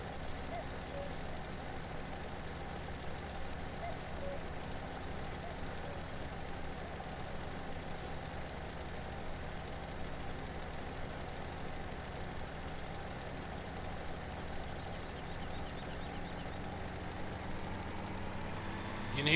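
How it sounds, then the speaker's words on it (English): A tractor engine in a farming simulator game with a seasons mod, heading down a big hill: a faint, steady, knocking drone that starts to rise in pitch right at the end. "engine rev up, and the tractor really does over rev and pick up a whole bunch of speed coming down that big hill."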